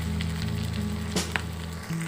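Green chillies sizzle steadily in hot frying oil while being stirred for mustard hilsa, with a continuous close crackle, a brief scrape partway through and no voices.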